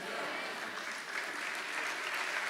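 A church audience claps during a sermon, a fairly faint but steady spread of many hands that carries on evenly from start to finish.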